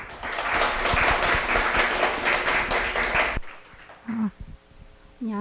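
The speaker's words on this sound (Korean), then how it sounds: "큰 박수 부탁드리겠습니다" About three seconds of steady applause from an audience at a nursing academic conference in Busan, then it stops abruptly and a presenter begins speaking.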